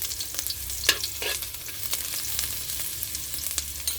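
Ginger dropped into a pan of pork adobo sizzles steadily while cooking, with a few scraping stir strokes of a utensil against the pan over the constant fry; no one speaks.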